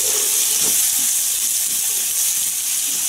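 Chili and garlic sizzle and hiss steadily in hot oil while being stir-fried for a Thai basil stir-fry, a loud continuous frying crackle with faint stirring scrapes underneath.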